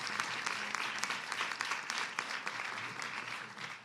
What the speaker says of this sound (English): That's a line for applause.